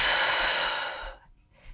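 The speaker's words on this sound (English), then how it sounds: "One breath in and out" A long, loud exhale during an upper back stretching exercise, a breathy rush that fades away into near silence before a short, soft intake of breath near the end.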